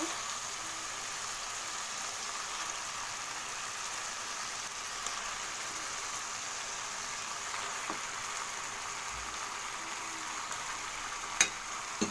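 Chicken meat is added to a spiced masala frying in oil, a steady soft hiss of sizzling with a few faint clicks, even and continuous at low volume without talking.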